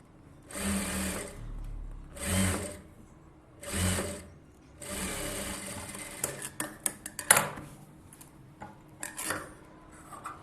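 A tailor's sewing machine stitches a blouse collar in several short whirring bursts with pauses between, followed by clicks and rattles of handling the fabric and machine.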